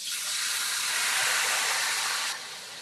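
Soy sauce hitting hot oil in a wok, a loud, steady broadband sizzle that holds for over two seconds, then drops slightly in level near the end.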